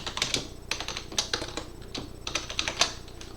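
Rapid keystrokes on a computer keyboard clatter in irregular bursts and single taps, close and fairly soft, with a faint steady hum underneath and no talking.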